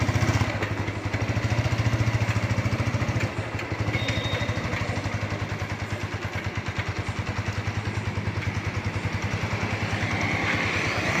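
A learner rides a motorcycle slowly in first gear: a steady, close, pulsing engine drone with a clattery idle-like rhythm throughout, rising slightly at the start and holding fairly even.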